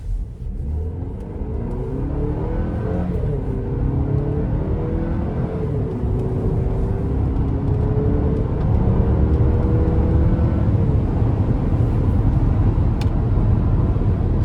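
A 2026 GMC Acadia AT4 AWD with some miles on it accelerating up an interstate on-ramp, its engine note climbing through rising gears under a loud rumble of road and wind noise heard from inside the cabin.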